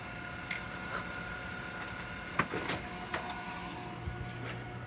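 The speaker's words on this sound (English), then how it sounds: "Oh, and now my printer's working." A printer runs steadily with a mechanical whir, punctuated by soft clicks and one sharper clack partway through, no voices.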